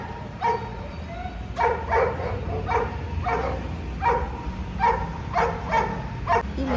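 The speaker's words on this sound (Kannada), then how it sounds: "ಇಲ್ಲಿ ಏನಕ್ಕೆ ಹೋಗಿ ನಾಯಿ ಯಾವಾಗಲೂ ಬೊಗಳ್ತಾನೆ ಇರುತ್ತೆ" A dog barks repeatedly outdoors, a string of short sharp barks spaced irregularly over several seconds against a steady background hum, moderately close, with no talking.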